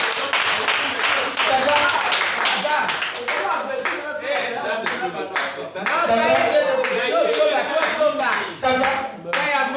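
A congregation at a French-language preaching service bursts into loud, sustained clapping that runs the full length, dense and close, with voices mixed in throughout.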